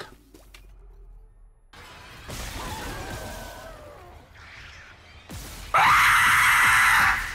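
A shrill creature scream from the horror video game Dead Space blares loudly near the end, following earlier harsh crashing and whooshing game effects.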